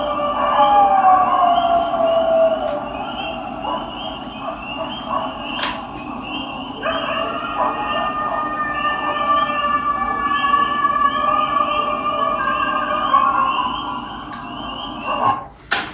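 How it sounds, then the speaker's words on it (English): Coyotes and dogs howl in long wavering calls that rise and fall in the distance, several voices overlapping in a siren-like chorus that carries on for many seconds. "That's coyotes and dogs responding to it."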